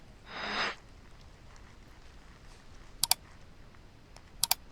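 A computer mouse clicks to launch the XMeters taskbar utility, a pair of sharp, close clicks heard twice in a quiet room after a brief soft swoosh.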